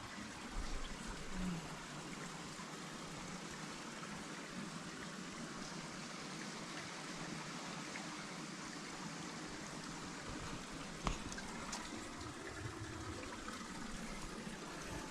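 Water from a Gaumukh-fed pool on the Madhyamaheshwar trek in Uttarakhand flows in a steady, continuous rush and trickle, moderately close and alone, with no talk over it.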